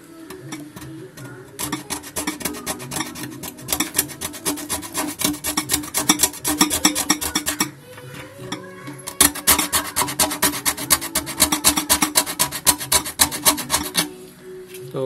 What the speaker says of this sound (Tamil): இந்த மாதிரி தகடு எடுத்துக்கிட்டு நீங்கள் அப்படியே தேய்க்க வேண்டியது தான்